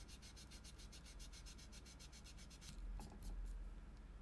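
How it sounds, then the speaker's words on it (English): A small, fairly flat surface is hand-sanded in quick, regular back-and-forth strokes, quiet and close, pausing near the end with a few scattered rubs. "we're just going to do some quick sanding here"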